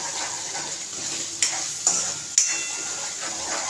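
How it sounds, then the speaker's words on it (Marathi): Misal masala is roasted in oil in a pan. A soft, continuous sizzle is broken by three sharp spoon scrapes against the pan in quick succession. "तेल सुटेपर्यंत भाजायचं आहे।"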